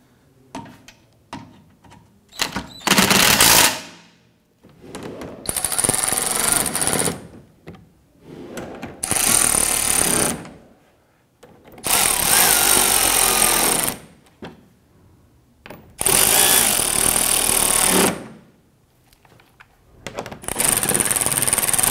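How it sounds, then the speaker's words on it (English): A power tool drives fog light bolts on a 2012-2017 Toyota Camry in about six loud, close bursts of whirring and rattling, each lasting one to two seconds, spaced a few seconds apart, with no talk. "snug down the bigger bolts first."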